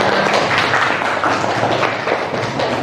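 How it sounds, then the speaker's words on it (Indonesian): A classroom of students claps together, dense steady applause with rapid overlapping hand smacks, fairly close and loud, holding for about three seconds without a pause. "Kalian semua, tepuk tangan buat kalian semua."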